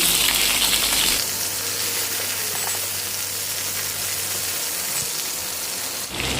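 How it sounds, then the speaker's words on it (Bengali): Cauliflower and yardlong beans fry in a pan for a Bengali labra, giving a steady, close, hissing sizzle. A faint low hum runs beneath most of it, with no talking. "ফুলকপিটা আগে একটু ভালো করে ভেজে নেব"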